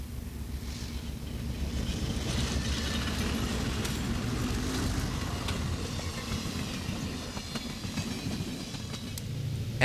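Amtrak passenger train number 10, bound from Seattle toward Chicago, crosses the 2,300-foot Stone Arch Bridge, built in 1884, with a steady low rumble and faint clatter that holds level throughout.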